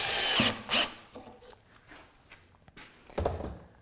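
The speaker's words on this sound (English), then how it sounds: "it's time for me to put some pocket screws on the back side" A power drill drives pocket screws into the back of a wooden cabinet, with two or three short, close whirring bursts separated by quieter handling thumps and knocks.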